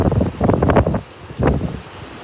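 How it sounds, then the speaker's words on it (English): Gusty wind outdoors buffets the microphone in two loud rumbling bursts, broadband and roaring, with a calmer stretch between them. "A little windy out here."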